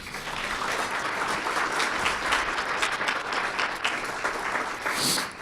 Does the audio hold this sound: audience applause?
yes